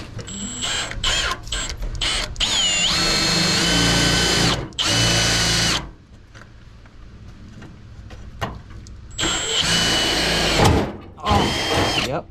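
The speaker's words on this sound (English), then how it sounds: "I got my drill. Let's drill some holes." A handheld power drill revs in short whirring bursts and longer runs while boring holes in a Trans-Am during radiator and headers work, with pauses and handling noise between the drilling.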